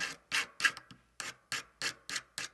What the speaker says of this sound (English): I also have my thumb resting on the file so that I have a little bit more control with my file as I'm filing